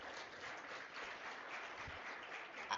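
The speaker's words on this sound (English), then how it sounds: "a huge round of applause for your entire staff for organizing this." An audience at a masterclass session applauds the organizing staff, with dense, steady clapping from many hands throughout, heard at some distance and fairly quiet.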